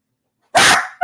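A dog lets out one loud, close bark, followed a beat later by the start of a second bark.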